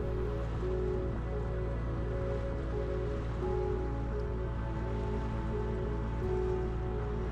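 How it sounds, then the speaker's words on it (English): Heavy rain falls during a trip to the west side of a British Columbia island, a dense, constant hiss and patter with steady low rumble throughout, no voices. "The weather was constantly shifting from heavy rain to heavy snowfall."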